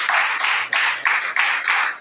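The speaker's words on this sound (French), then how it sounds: "Est-ce qu'on peut applaudir le Seigneur?" A church congregation gathered for a French-language Bible teaching session bursts into loud, rhythmic clapping for about two seconds, close and full, with steady repeated beats and no voices over it.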